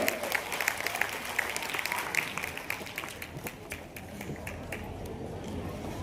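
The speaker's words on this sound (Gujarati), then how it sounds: "દરેક દાદાશ્રીઓ માટે એકવાર જોરદાર તાળીઓ." Audience claps loudly and steadily throughout, a dense crowd ovation filling a student award ceremony hall of a Prajapati youth development association in Anand.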